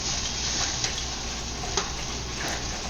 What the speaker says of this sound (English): I'm going to toss the rice around, make sure that the olives are mixed into it.